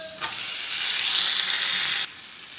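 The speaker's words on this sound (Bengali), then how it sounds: "এখন এই ভাজা হচ্ছে, দেখুন হয়ে গেছে।" Vegetable peels fry in a hot pan with onion, turmeric and salt, making a close, even hiss of sizzling oil that holds for about two seconds and then cuts off abruptly.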